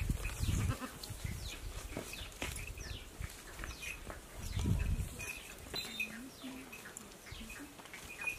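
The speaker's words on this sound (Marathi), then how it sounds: "दुपार झाली तरी शेळी दावणीला ते आणते." A goat tethered at a village farmstead bleats faintly and in short bursts, with light rustling and scattered bird chirps in a quiet outdoor setting.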